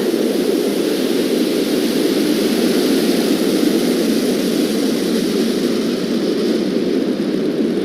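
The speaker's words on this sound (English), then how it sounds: "liftoff of Falcon's first East Coast polar launch" A SpaceX Falcon rocket lifts off on a polar launch, a dense, continuous crackling roar of rocket exhaust that stays loud and steady throughout.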